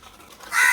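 A single loud crow's caw breaks out near the end after a quiet stretch, close and harsh.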